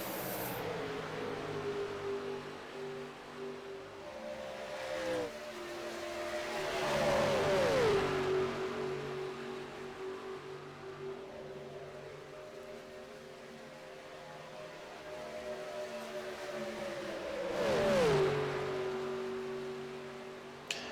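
Stock cars scream past at Daytona in a racing video game, engines howling steadily with two louder swells as cars sweep by, and the pitch bends down as each passes.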